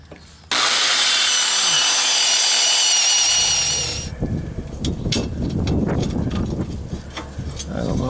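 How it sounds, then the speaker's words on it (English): A power drill whines steadily for a few seconds while boring a hole near the tailpipe of an RV, then stops, followed by rubbing and scraping handling noises. "I'm going to drill a hole up into there and clamp that here"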